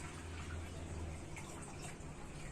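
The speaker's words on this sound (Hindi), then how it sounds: "अब जब हम पानी छानेंगे तो हम इस तरीके से पानी छान लेंगे।" Water pours steadily from a vessel and strains through a cloth, a continuous close gushing and trickling that holds at an even level throughout, with no voices.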